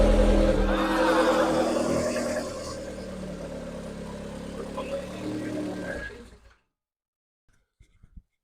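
A Vauxhall Nova GTE's 2.0 turbo engine fires for its first start and runs loudly, with a steady rumbling idle and a few revving swells, close by. It cuts out after about six seconds, leaving silence with a few faint knocks.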